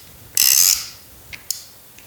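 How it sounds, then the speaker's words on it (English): A muzzle device threads onto the barrel of a suppressed short-barreled AR-15, giving a quick burst of ratcheting, metallic clicks, then a few faint isolated ticks as it tightens down, close and alone. "It threads on fairly quickly. You can hear it tightening down."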